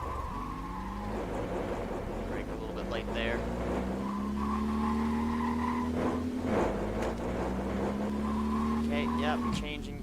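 Mid-1980s sports car on a test track accelerating hard, engine pitch climbing steadily then dropping abruptly at each gear change, repeating in a rising-and-falling pattern, loud and close with a voice speaking over it.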